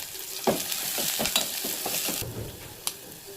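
Sliced onions and green chillies sizzle in hot oil, stirred with a spatula that scrapes the pan in soft repeated strokes over a steady, fairly quiet frying hiss.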